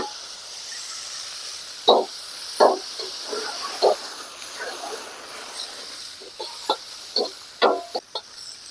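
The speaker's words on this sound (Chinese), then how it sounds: "把这苦瓜先下锅炒一下" Salted bitter gourd stir-fried in oil in a wok sizzles with a steady hiss, broken by a string of sharp scraping and clattering bursts of a spatula against the pan.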